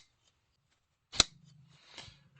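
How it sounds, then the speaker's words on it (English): A Vero Engineering Isotope folding knife's frame lock grinding against the blade tang as it is worked, heard as one sharp close scraping snap followed by a softer gritty drag, with no talking. "that grinding sound that everybody's complaining about is literally the frame lock on the tang of the blade"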